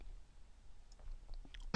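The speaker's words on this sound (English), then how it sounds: "So I'm going to click on this." A single sharp computer mouse click sounds near the end, following a faint, quiet stretch while working in an Excel spreadsheet.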